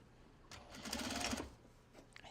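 A sewing machine stitches a Japanese fabric belt bag in one steady, close burst of about a second, with faint taps around it and no talk.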